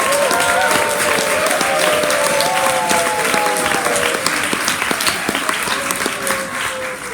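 Bookstore author-event audience at a Barnes and Noble in Union Square applauding warmly, a dense, loud, sustained wash of clapping that holds for several seconds before easing slightly at the end.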